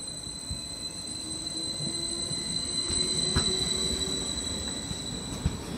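Greater Anglia train at a Stansted Airport platform, a steady low rumble of the idling unit with faint high whine and occasional clunks, distant and fairly quiet, no talking.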